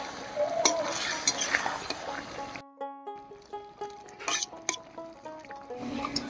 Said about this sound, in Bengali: এবার ভালো করে মাছটাকে সবজির সঙ্গে মিশিয়ে নেব।